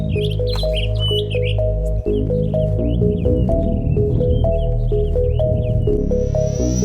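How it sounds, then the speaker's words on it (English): Outdoors on a backpacking trip, a bird chirps in repeated short tweets over a steady music-like tonal bed, with the calls spaced irregularly across the stretch. "That bird only talks when I talk."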